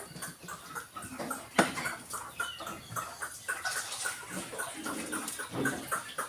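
Chickens clucking inside a village chicken coop, close and continuous, with overlapping calls and a sharper squawk partway through, over faint background noise; no talking.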